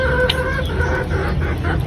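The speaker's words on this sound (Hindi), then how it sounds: "मुर्गा जो है वो बुला रहा है।" An Aseel rooster calls its hens with a run of close, fairly loud clucks and short throaty calls over steady farmyard background noise.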